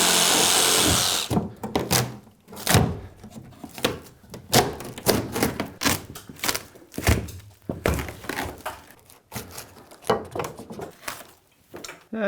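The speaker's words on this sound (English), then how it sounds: "I'm gonna use a Sawzall or a reciprocating saw." A reciprocating saw cuts into drywall in repeated bursts, buzzing and rattling in short, uneven spurts separated by pauses and knocks, close and fairly loud, with no voices.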